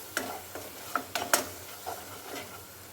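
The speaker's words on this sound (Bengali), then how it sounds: "এবার মশলা ভালোভাবে কষিয়ে নেব যতক্ষণ না মশলা থেকে তেল ছেড়ে আসছে" A paste of ground ginger, dried chilli, cumin and coriander frying in a pan while being stirred, heard as a handful of distinct scraping clacks against a quiet low hiss.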